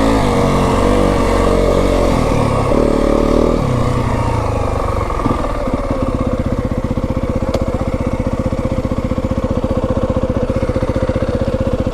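A 2026 Yamaha WR 250F four-stroke dirt bike on single track at Kelly Canyon, loud and close, the engine revving and shifting before settling into a steady, pulsing drone.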